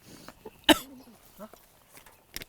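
One short, sharp cough from spicy chili aroma stands out close by, followed by faint murmurs and small noises in a quiet room.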